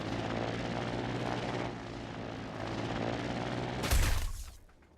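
Plane engine in the building game Trailmakers, a steady droning hum with a low tonal buzz holding for several seconds, then a sudden broadband burst near the end before the sound fades away.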